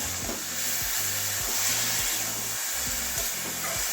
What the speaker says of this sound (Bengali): চিনি আর গাজর সব এবারে নাড়াবো চিনিটা যতক্ষণ গলে যাচ্ছে না ততক্ষণ নাড়াতে থাকবো